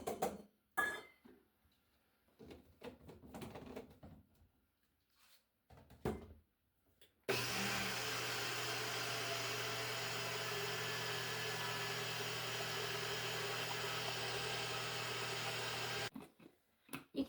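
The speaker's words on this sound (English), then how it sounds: "I'm going to put it into this NutriBullet, and we're going to grind it into a finer powder." A NutriBullet blender grinds dried eggs into powder, a steady loud whirring drone running for about nine seconds after some scattered handling clatter, then cutting off abruptly.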